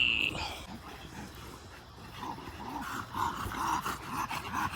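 Dogs growl and grumble in a string of rough, rhythmic snarls, some yips and barks mixed in, fairly close and growing livelier toward the end.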